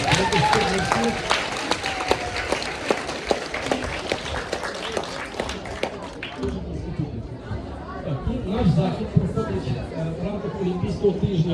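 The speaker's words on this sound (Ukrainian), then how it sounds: "Ваші оплески." Crowd applause for an Olympic bronze medallist, dense clapping that thins partway through into lively chatter and murmuring voices with scattered claps.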